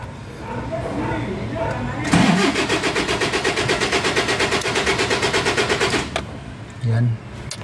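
A Toyota Hiace engine is cranked in one long burst, the starter chugging rapidly and evenly for about four seconds without catching, then cutting off, followed by a brief low thump.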